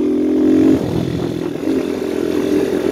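A Viper 150cc dirt bike engine runs on a rural Nebraska countryside ride, a loud close buzzing drone that holds high, then drops in pitch and steadies into a rough, even idle-like hum.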